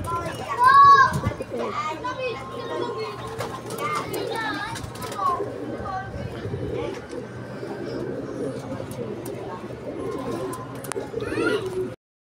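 Racing pigeons coo in a loft after a 53 km club training flight near Calamba, Laguna, with soft repeated cooing and bird calls mixed under frequent nearby talk and children's voices.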